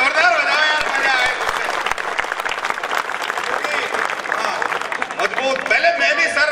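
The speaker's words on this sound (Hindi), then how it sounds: "तो एक बार तालियां जोरदार हो जाओ यार, मजा आए।" Audience at a live comedy show bursting into loud, sustained applause and cheering, dense clapping throughout with a voice talking over it.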